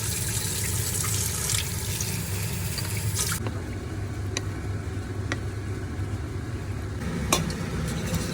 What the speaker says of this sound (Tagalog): Tapos lalagyan ko siya ng tubig.